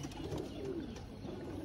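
Pet pigeons coo in a steady low warble near at hand, several birds overlapping in a soft continuous murmur without any speech.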